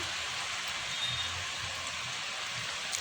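Heavy rain and wind pound outside a window, a continuous, fairly loud broadband hiss with soft low gusting pulses underneath and no pauses.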